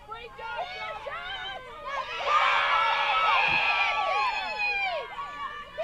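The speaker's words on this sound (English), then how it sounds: "Quite overzealous in their cheering as well" Crowd at a Rutgers versus Villanova women's lacrosse game cheers and screams loudly, a surge of high excited voices swelling midway and holding, with shouts and babble throughout.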